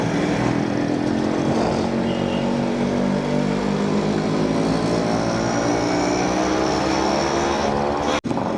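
A Suzuki AX100 two-stroke motorcycle engine runs close by with a loud, steady buzzing drone that holds its pitch throughout. A sharp click cuts in near the end.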